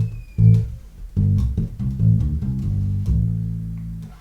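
Electric bass guitar playing the closing phrase of a minor pentatonic groove, a handful of deep plucked notes with a sustained final tone, close and loud, unaccompanied.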